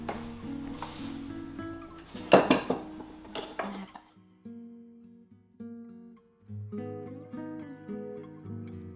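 Dishes being washed in a home kitchen, with a burst of loud clinks and clatters of pots and cutlery midway, set against steady background music and quieter handling before and after.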